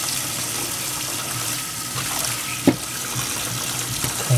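Tap water runs steadily into a sink as hair is rinsed, a close and loud continuous splashing stream with one brief knock partway through.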